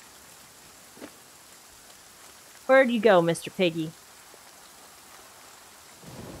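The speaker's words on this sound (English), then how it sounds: "it is raining up a storm right now" Steady rain hiss in the survival game The Flame in the Flood, a faint broadband wash running throughout, with someone talking briefly in the middle over it.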